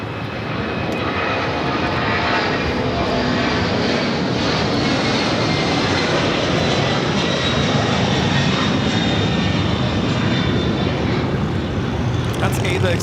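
A Boeing 767 jet taking off at LAX gives a loud, sustained engine roar that stays strong and even, while voices talk over it.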